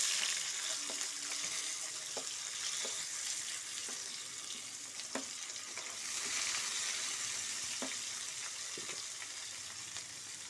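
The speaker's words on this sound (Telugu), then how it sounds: "నూనె కాగిందండి, ఆనియన్స్ వేస్తున్నాను." Onions sizzle steadily in hot oil for a potato curry, a continuous frying hiss with scattered crackles and small pops close by, and no voices.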